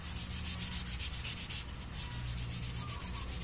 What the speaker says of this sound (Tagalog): lahat ng parte ay malihan natin ng 400 o mapagaspang natin